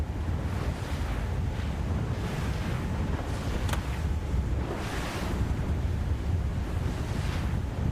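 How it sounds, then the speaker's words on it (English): Sea water washing over a TP52 racing sailboat in open ocean, a continuous loud rush of spray and surf with surges and heavy wind buffeting. "I can hear the water going over the top of you, Louise, and you have my sympathies."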